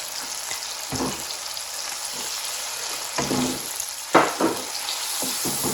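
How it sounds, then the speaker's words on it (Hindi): Chicken fries in a pot with ginger and garlic after a splash of water, giving a steady sizzle with several louder spitting bursts, the sharpest near the end, and no talking. "चिकन को उतनी देर फ्राई करेंगे कि ये इसकी जो शक्ल है ना, कलर चेंज हो जाए"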